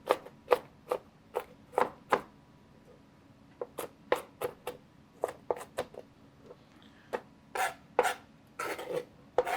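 A manual food chopper dices an onion with a series of sharp, close rasping chops, irregularly spaced with short pauses, clustering faster toward the end against a quiet background.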